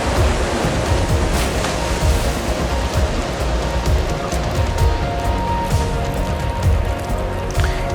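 A river in the Ark video game makes a steady, dense rush of water with waves churning continuously, close and loud, without clear breaks.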